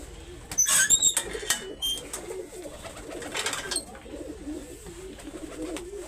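Punjabi breed pigeons coo softly at close range, with a brief burst of wing flapping near the start and low rolling calls through the rest.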